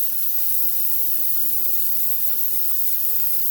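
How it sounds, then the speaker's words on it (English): A sink faucet runs very hot water in a continuous, even hiss and rush, close and steady for the whole stretch with no talking. "I'm going to turn on the faucet,"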